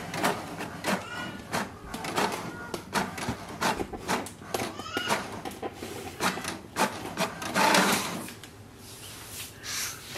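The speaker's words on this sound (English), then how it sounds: "wait for the printer to print a page" An HP DeskJet 2755e printer feeding an A4 sheet and printing an information page, giving a close series of mechanical rubbing, clicking and rasping movements with a louder paper-feed surge near the end.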